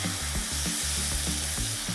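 Shimeji mushrooms and bacon in a frying pan with sake, a steady, bright sizzle with rhythmic stirring or scraping pulses, close and continuous, with no talking.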